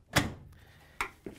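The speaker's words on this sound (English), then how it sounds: "we can close the washer door" An LG/Kenmore front-load washer door is pushed shut with a sharp nearby thump, and two lighter clicks follow as it latches.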